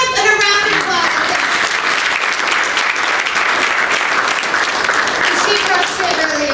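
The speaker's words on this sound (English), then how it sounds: "Give Sam a round of applause." A conference audience breaks into sustained applause, a dense wash of clapping from many hands that holds steady throughout, with a voice heard briefly at the start.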